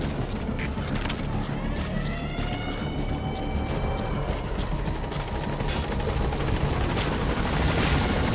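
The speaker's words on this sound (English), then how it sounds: "Exfiltrate out of the hot zone by chopper or on land. Arriving shortly at LZ." Helicopter in Metal Gear Solid V arriving at a landing zone for extraction: a steady, loud rotor roar fills the whole stretch without a break, with faint radio-style voices over it.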